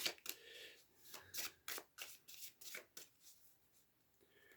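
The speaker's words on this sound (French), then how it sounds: "je vais retirer quelques cartes avec le tarot des anges" Angel tarot deck cards being shuffled in repeated riffling bursts, a close, crisp, papery rhythm of about a dozen strokes with short gaps, no voices.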